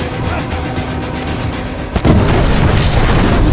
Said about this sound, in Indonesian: Ledakan besar terjadi di sana